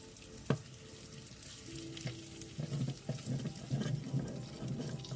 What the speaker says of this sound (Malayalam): മുളക് പൊടിയും മഞ്ഞൾപ്പൊടിയും ഇട്ട് നല്ലപോലെ മൂപ്പിക്കുക